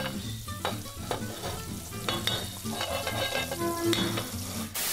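An egg with bacon frying in a pan, a close, steady crackling sizzle with a few light stirring scrapes over five seconds, no voices.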